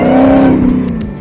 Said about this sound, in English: Hellcat Redeye engine